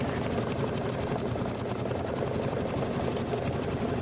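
An embroidery machine stitches a Kimberbell pillow design, running a steady, fast needle rhythm without pause, close and fairly loud, with a dense mechanical whir throughout.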